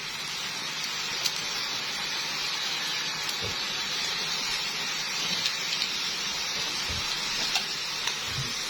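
Meat sears in a pot with black pepper and spices over low heat, a steady soft sizzling hiss that runs throughout with faint pops.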